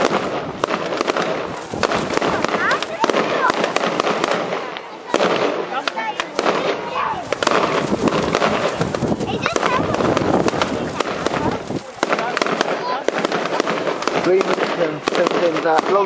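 Fireworks rockets bursting over Lands End, Cornwall, a rapid continuous barrage of loud crackling pops and bangs with almost no pause, with people talking and exclaiming throughout.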